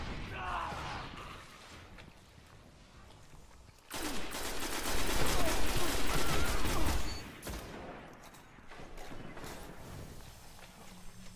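Rapid gunfire from the video game Destiny plays as a dense sustained burst of shots in the middle of the clip, loud and close, with quieter game sounds before and after.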